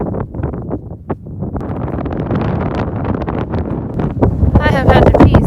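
Strong gusting wind on a mountain ridge in Glacier National Park, Montana, buffeting the microphone with rumbling, roaring bursts that build toward the end, heard under a person speaking.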